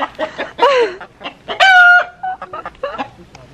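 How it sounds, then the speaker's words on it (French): Hens cluck and squawk up close in short bursts, with one drawn-out crowing call in the middle, no talking over them. "Eh, t'as vu les poules?"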